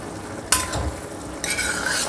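Scallions being stir-fried in a wok, reheating a home-cooked dish: two bursts of sizzling and stirring scrapes, close and moderately loud, with a steady hiss of frying between them.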